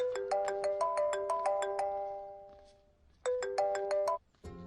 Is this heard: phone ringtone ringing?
yes